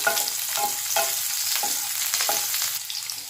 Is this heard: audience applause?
no